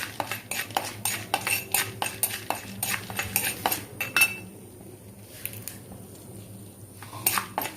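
Peanuts tipped into hot oil in a pan with dal for curry leaves rice, a run of loud metallic clinks and scrapes of a spoon against the pan, then quieter after a few seconds with a final couple of clanks.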